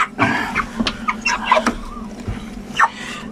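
A rooster crows and clucks nearby in short bursts, with a low steady hum running underneath.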